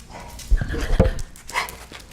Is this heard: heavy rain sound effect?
no